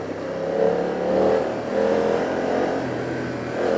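A BMW F 900 R motorcycle engine hums steadily while riding on a road in Mumbai, with gentle surges and dips in tone under a constant wind rush.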